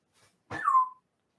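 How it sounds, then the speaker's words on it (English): A dog gives a single short, high yelp that rises and then slides down in pitch. It sounds fairly close, stands alone and is followed by silence. "Sorry, the dogs are barking."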